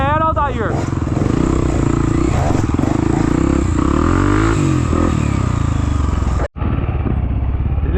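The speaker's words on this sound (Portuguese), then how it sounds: "Chama na capa, KTM. Acelera, Aldair." A KTM dirt bike revs and accelerates hard on a muddy trail in rainy weather, its engine roaring loud and close with rising, warbling pitch while voices shout over it.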